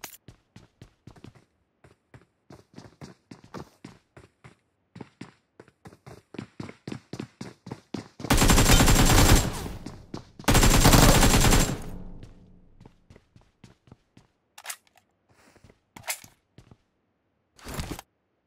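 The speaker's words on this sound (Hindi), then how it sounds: "फायरिंग आवाज आनी शुरू हो गई।" Gunfire in the mobile battle-royale game PUBG Mobile, played on an iPhone 8 Plus: a rapid string of single shots, then two long, loud bursts of automatic fire, followed by scattered sharp shots.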